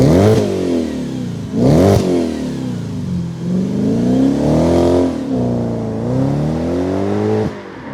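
An Audi S4 V8 fitted with an aftermarket exhaust revs repeatedly, each blip climbing sharply and falling back, with rising and falling engine tones between sharp throttle stabs, loud and close with no talk.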